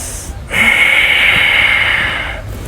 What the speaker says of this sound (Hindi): जब हम भस्त्रिका प्राणायाम में लंबा गहरा सांस भीतर भरते हैं